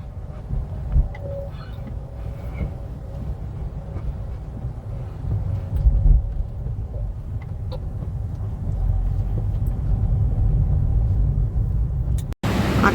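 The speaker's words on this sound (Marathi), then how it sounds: "बघा केवढे खूप मोठे मोठे ट्रक्स" Continuous low rumble of big trucks driving along a road on a morning highway diversion, with steady engine and tyre drone heard from inside a passing vehicle, rising slightly toward the end.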